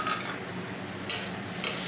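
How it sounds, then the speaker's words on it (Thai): Holy basil leaves and pork liver sizzle and hiss as they are stir-fried in a pan over high heat while a utensil scrapes and stirs, with two brief louder bursts of frying. "ผัดต่อจนใบโหระพาสุกดีครับเคล็ดลับให้ใบโหระพาสีสวยก็คือผัดไฟแรงๆครับผม"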